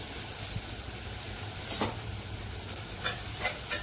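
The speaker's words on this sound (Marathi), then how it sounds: "एका कढईमध्ये 2 चमचे तेल, 2 कांदे घेतलेत मोठे कट करून" Two large chopped onions sauté in two spoons of oil in a kadai, giving a steady soft sizzle with a few brief scraping stirs near the end, close and without talking.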